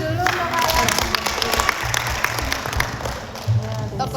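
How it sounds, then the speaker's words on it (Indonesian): Audience applause at a community gathering in East Java, steady dense clapping for several seconds with some voices underneath. "Tepuk tangan dulu untuk kalian."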